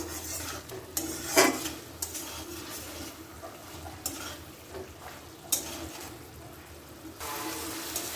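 Masala-stuffed pointed gourd being stirred and fried in a pan, metal spatula clinks and scrapes against the pan over a low steady sizzle, several sharp knocks standing out, close and without speech.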